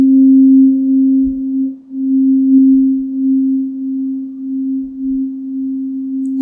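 Struck tuning fork ringing alone with a steady, sustained pure tone that holds unbroken for several seconds, a faint overtone above it, and a few soft low thumps of handling underneath.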